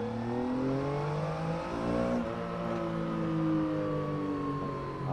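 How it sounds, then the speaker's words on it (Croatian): A Triumph Tiger Sport 800 motorcycle in rain mode pulls away in second gear, its engine note rising in smooth stepped harmonics as the revs climb and then ease, loud and close with steady wind noise underneath. "probamo negdje samo da malo stisnemo gas, da vidimo koliko je responsivnost"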